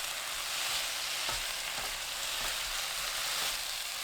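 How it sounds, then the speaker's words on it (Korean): Eggplant stir-fried over high heat with perilla leaves and Cheongyang chili peppers gives a steady, loud sizzle close to the pan, with faint stirring knocks throughout. "깻잎, 청양고추 넣고 30초 볶습니다."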